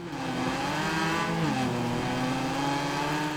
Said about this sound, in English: We're in this noisy car.